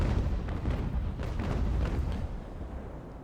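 Broadside cannon fire from a sailing warship in Ultimate Admiral Age of Sail, a heavy, rumbling series of booming shots blending into a deep continuous roar before tailing off.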